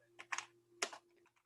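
A few quick keystrokes on a computer keyboard, soft and close, in two short bursts over a faint steady hum.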